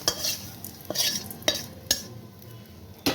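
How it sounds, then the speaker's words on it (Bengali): Fried cauliflower stalks tempered with mustard seed are stirred and lifted out of a pan, giving several sharp scrapes and clinks of a utensil against metal at uneven intervals over a faint sizzle. "আমার এই ভাজা ভাজা ডাঁটগুলো ভাজা ভাজা হয়ে গেল, আমি এবার নামিয়ে নিচ্ছি"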